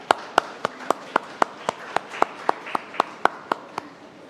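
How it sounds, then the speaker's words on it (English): Regularly spaced hand claps, about sixteen sharp beats in steady rhythm, ring out at a pavilion ceremony in Regent Park, fairly close with faint room noise between them. "Let us give a grand applause for her presence."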